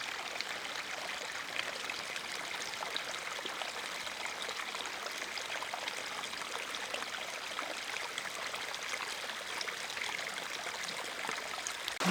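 Creek water flowing beside the Mission Peak trail, a steady broadband rush and trickle that stays even and fairly faint throughout, with no voices.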